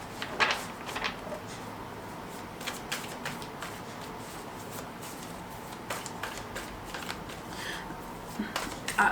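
Tarot cards shuffled and drawn from a deck, a run of quick papery riffles and flicks with several sharper snaps, close by and moderately quiet with no talking.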